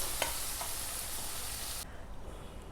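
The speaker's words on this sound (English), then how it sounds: "And now I will put this tadka on my roasted crispy" Hot tadka poured over roasted crispy raw bananas gives a dense hiss that holds steady, then drops abruptly after a couple of seconds into a quieter low rumble.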